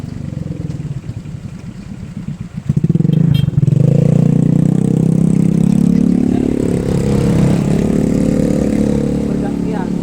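A motorcycle engine catches and roars up after a few seconds of quieter rumbling, then runs loud and steady close by until the end.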